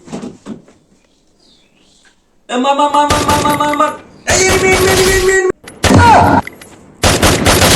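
Free Fire video game gunfire crackles in several dense, loud bursts of rapid shots separated by short pauses, starting after a quiet opening.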